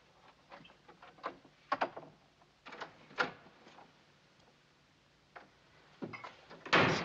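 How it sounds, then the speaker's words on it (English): Doors bang and thump in an Old West saloon setting, several sharp knocks and slams scattered irregularly over a quiet room, with a louder final slam at the end. "Stop slamming doors."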